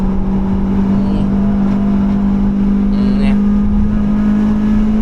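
A Toyota Celica T-Sport engine with about 270,000 km drones loud and steady with a strong low hum, rising slightly as it revs, heard from inside the car with no talk.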